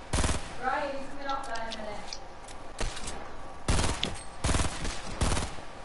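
Fortnite gunfire: several sharp broadband shots, a quick burst near the start and more spaced bursts later, loud and close, with a brief voice in between.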